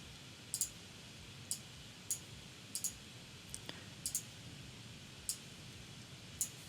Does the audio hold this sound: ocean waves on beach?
no